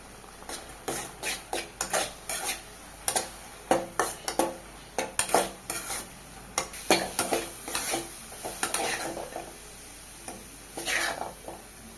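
Motichoor laddu mixture cooking in a little ghee in a pan, stirred with a spatula in a rapid irregular series of scraping strokes with a light sizzle, close and fairly loud, pausing briefly near the end.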